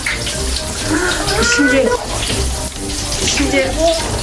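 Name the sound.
bath crystals crackling and fizzing in water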